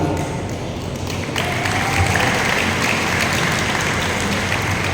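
A church congregation breaks into applause, dense steady clapping that swells after a quieter opening and holds loud to the end.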